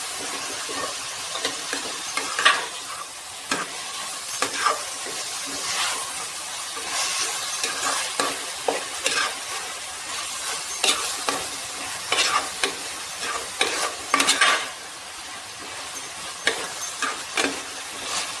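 Green chillies and garlic-ginger paste sauté in a pan for chicken curry, with a steady sizzle and repeated scraping strokes of a spoon through the clip, close and fairly loud, no talking.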